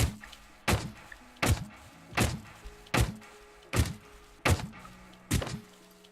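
Auto-cannon firing in the building game Scrap Mechanic, eight evenly spaced heavy thumping shots about one second apart, each with a short decaying boom, loud and isolated without voices.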